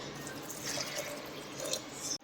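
Faint water trickles and splashes steadily onto sprouted beans in a container, a soft continuous pour with light dripping sounds.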